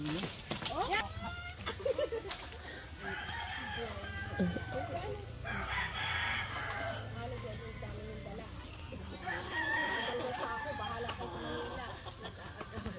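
Backyard chickens at a rural home in Tayabas, Quezon, Philippines cluck and call close by while people talk over them. A rooster-like crow rises partway through, over constant low background noise.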